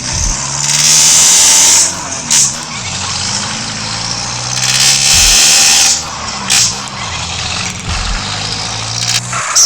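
Car engine in GTA San Andreas with a modpack, revving and shifting in repeated rising and falling sweeps, loud and close, with a harsh hissing layer on top and no talk.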